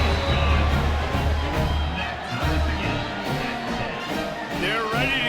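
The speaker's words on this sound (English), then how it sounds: "this crowd is buzzing after that last score" Crowd buzzing steadily at a high school football playoff game, a loud continuous roar of many voices with scattered cheers and shouts close around throughout.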